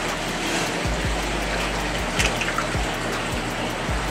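Continuous trickling water with soft splashes and low dull bumps recurring throughout, close by, as a venomous snake is placed into the water.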